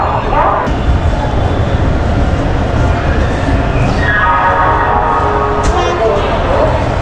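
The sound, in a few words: express train departing Howrah station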